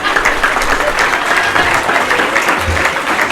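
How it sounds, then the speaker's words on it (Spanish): Audience applause for teachers at a Marketer's Day event, a sustained, fairly loud wash of clapping with faint crowd murmur mixed in, continuing evenly without a break. "Un fuerte aplauso, por favor, para los profesores."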